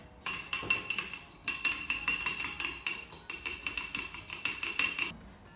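A whisk or fork beats egg yolk, vinegar and mustard in a bowl for mayonnaise, producing fast, even metallic clinks in rhythmic bursts, fairly quiet and close with brief pauses.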